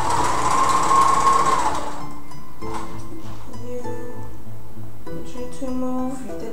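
Loud home sewing machine stitching a cocktail dress, a steady high whir that gives way to a lower running hum with rhythmic mechanical clatter and faint background music.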